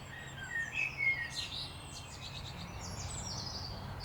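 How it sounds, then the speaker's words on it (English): Birds chirp and whistle outdoors, with short bright calls and trills clustered early and a few more later, over a soft steady background hum, moderately faint, with no talk. "I can hear all different kinds of birds"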